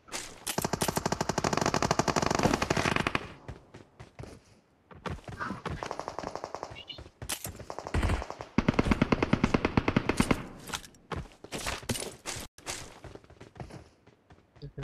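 Heavy automatic gunfire from BGMI battle royale gameplay, with long sustained bursts and scattered single shots filling the stretch, loud and up close, pausing briefly before more volleys.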